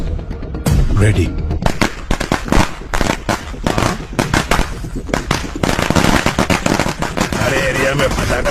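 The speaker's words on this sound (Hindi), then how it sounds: "अरे एरिया में पटाखा कौन फोड़ रहे रे?" A rapid, crackling string of firecrackers bursting in close succession, sharp pops continuing without pause for several seconds.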